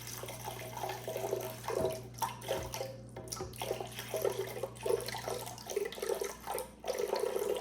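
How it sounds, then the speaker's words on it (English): A cup of water pouring into a blender for a green bean casserole, a soft continuous trickling splash with light gurgling, quiet and close, with no talk. "a cup of water to a blender."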